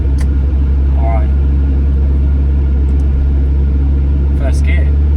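A Ferrari 355 engine pulls away in first gear with a steady low idle-like drone near and loud, a brief voice heard faintly over it.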